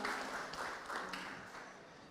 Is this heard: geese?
no